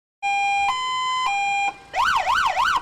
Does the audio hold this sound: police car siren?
yes